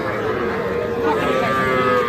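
A young heifer moos at a busy cattle market in Aftabganj, a drawn-out bellow rising over the constant crowd murmur of the livestock fair.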